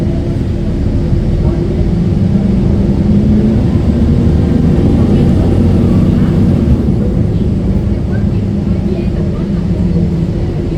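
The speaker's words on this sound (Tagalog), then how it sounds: "may paalis na namang eroplano" An airplane departs near San Francisco International Airport, heard as a loud, steady low rumble and roar running the whole time, with broadband engine noise and no clear rise or fade.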